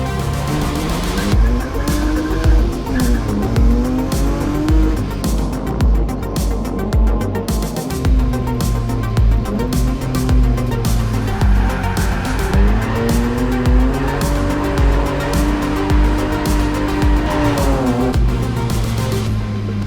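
A rallycross race car at full throttle during a qualifying run, its engine note rising and falling through gear changes with bursts of tire squeal and skidding, loud and continuous with no talk.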